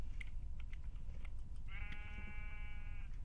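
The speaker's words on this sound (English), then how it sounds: "You found sheep? Lots of sheep. Hundreds of sheep." A single sheep bleats near the end, a clear drawn-out bleat over a steady low background hum and a few faint keyboard-like clicks, in the video game Skylia.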